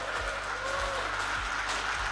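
A crowd at an Indonesian public event with the President applauds in a steady, dense wash of clapping, moderately loud and sustained, with faint low thumps beneath.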